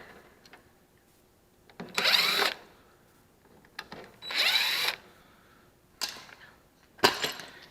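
A power drill backing screws out of a BMW rear door, its motor whirring in four short bursts of about half a second to a second, close and loud, with quiet handling clicks between them.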